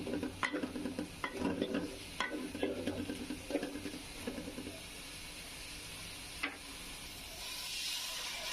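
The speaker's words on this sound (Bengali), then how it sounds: "আমি একটু পানি দিয়ে মশলাটা কষিয়ে আনছি" Spice masala for bhuna khichuri cooking down with a little water in a pot: a spoon scrapes and stirs in quick close strokes over bubbling sizzle, then the stirring stops and a steady steamy hiss remains.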